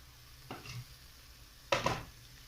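Spoon stirring dry spices into a rajma masala in a pan: two short scraping strokes, the second louder, set against a quiet background.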